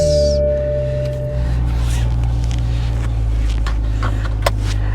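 A Toyota Supra engine cranks and catches via push-button start, then settles into a steady low idle hum, close and loud, with a few small clicks.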